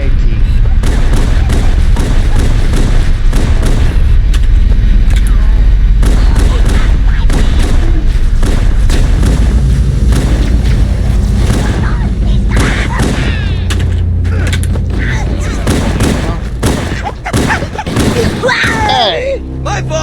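Grenade explosions in the video game Halo: Combat Evolved: loud repeated booms and thuds mixed with bursts of gunfire, dense and close, with voices talking over parts of the action.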